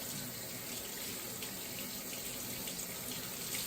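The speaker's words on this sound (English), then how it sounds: "I'll go ahead and start washing my hands first" Hands being washed under a running kitchen or bathroom tap, a steady, close rush of water splashing continuously with no talking.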